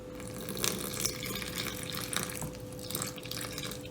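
Wet ingredients for homemade pizza dough pour into the mixing bowl with a steady liquid trickle and splashing, close by, with no speech.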